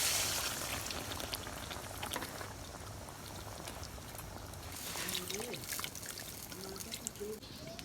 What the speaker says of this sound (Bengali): এখন আমি একটু জল দিয়ে দিই।